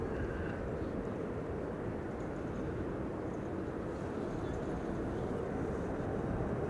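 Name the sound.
heavy airliner taking off at Amsterdam Schiphol Airport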